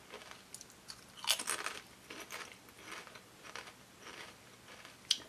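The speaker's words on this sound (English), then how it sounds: "Larry the Cable Guy cheeseburger tater chips." Cheeseburger-flavored Larry the Cable Guy potato chips being eaten up close, with crisp crunching bites and chewing in irregular bursts, fairly loud and with no talking.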